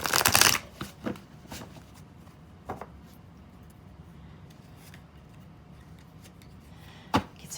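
Tarot cards are shuffled and handled up close, opening with a quick riffle, then sparse soft slaps and rustles as cards are laid out.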